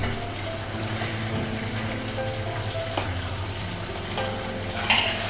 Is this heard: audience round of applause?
no